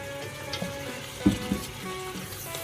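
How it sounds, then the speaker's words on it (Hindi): Chicken frying with special nihari spice mix in a pan for desi chicken nihari, a soft low sizzle with a few light stirring knocks in the middle, no voices. "अब तकरीबन 10-12 मिनट हमने इसको दोबारा मसाले में भूनना है।"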